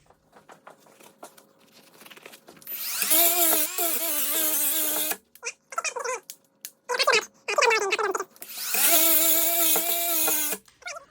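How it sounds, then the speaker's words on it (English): A small battery-powered electric angle grinder cuts in two long, loud whining bursts, with short stop-start spurts between them. It runs alone, with no talking. "Angle grinders can be extremely, extremely dangerous."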